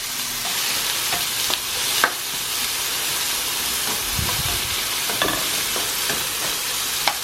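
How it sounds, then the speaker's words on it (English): Food sizzles steadily in a hot pan while a utensil stirs it, with scraping clicks and occasional sharper knocks against the pan over a constant frying hiss. "I'm gonna give it a little bit of stir."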